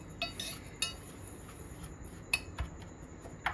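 A spoon mixing fennel seeds, pepper powder and other spices into malpua batter in a bowl, with several light metallic clinks and taps scattered over a quiet background, no speech.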